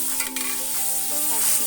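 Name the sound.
ground spices frying and being stirred in oil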